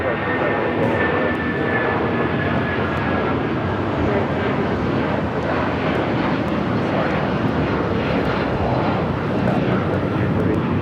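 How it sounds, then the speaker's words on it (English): Air France Boeing 777-300ER jet at LAX, a steady, loud broadband engine roar that holds evenly throughout, with a faint high whine running through it. "the Air France sending back to Paris in that 777-300"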